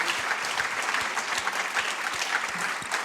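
An audience at a film premiere at the Cinémathèque suisse claps steadily, a dense, even patter of many hands heard close, with no voices on top.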